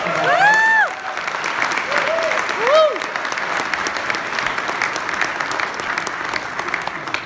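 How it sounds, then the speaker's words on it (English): A room of people applauds team coordinators standing up at a business meeting: loud, continuous clapping with a few whoops and whistles near the start, carrying on steadily to the end. "Let's give all the team coordinators a round of applause"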